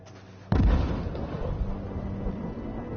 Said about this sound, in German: Sie sprengen sich den Weg frei.